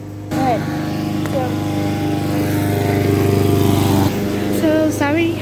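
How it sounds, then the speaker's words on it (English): Lawn mower engine running steadily outside for the whole stretch, a loud continuous drone with a voice talking over it near the end. "my mom is mowing"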